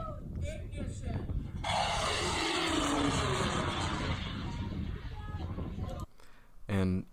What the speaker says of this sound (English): just so you can kind of hear the rocket and see how other groups did